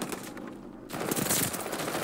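Type 100 submachine gun firing in Call of Duty Vanguard, a dense stream of rapid shots running almost unbroken, with a brief lull near the start before the burst picks up again close and loud.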